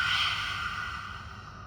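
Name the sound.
deep exhale through the mouth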